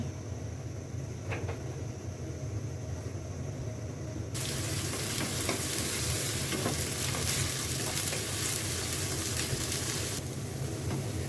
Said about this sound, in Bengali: আমি এখন চিংড়িটা বসিয়ে দিব তাই তেল দিয়ে দিলাম